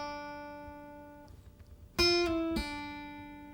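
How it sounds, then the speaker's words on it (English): A guitar slide and pull-off from a guitar solo: a ringing held note fades, then a fresh plucked note slides down and is pulled off to a lower note that rings out, played quietly with no talking. "It's a slide and a pull off."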